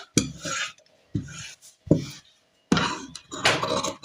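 Blouse fabric is cut with scissors in several distinct close bursts of rasping snips, separated by short silences, with no talk.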